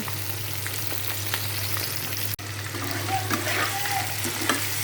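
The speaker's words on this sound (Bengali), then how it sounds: "এখন ভাজি করতেছি, বেগুন দিয়ে আলু দিয়ে রান্না করব।" Vegetables such as pointed gourd and brinjal frying in a pan, a steady close sizzle over a low hum, with a brief clack midway and stirring noises after.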